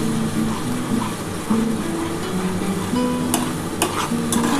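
White mustard paste sizzles and fries in hot oil for a pomfret curry, a steady close crackle with occasional stirring clinks, no talking.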